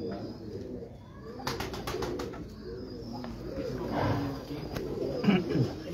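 Pigeons on a rooftop in Gujranwala, Pakistan coo softly in low, repeated bursts, with a few sharp clicks and rustles nearby.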